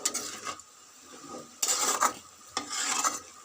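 Mustard greens with salt and turmeric fry in a pan, heard as close bursts of scraping stirring and sizzling separated by short quieter gaps.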